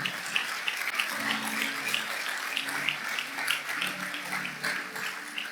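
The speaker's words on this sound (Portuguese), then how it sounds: "Aplauda o Senhor." A church congregation claps steadily during a service, a soft, continuous patter of many hands heard at moderate distance with no talking.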